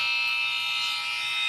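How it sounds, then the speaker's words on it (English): A basketball buzzer blares in one sustained, loud, harsh electronic tone that holds steady for its full length, alone with no voices. "No, that's my basketball buzzer for when we play trash ball."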